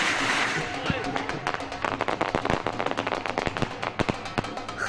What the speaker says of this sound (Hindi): सादिकाबाद में आतिशबाजी ने आसमान पर खूबसूरत रंग बिखेर दिए।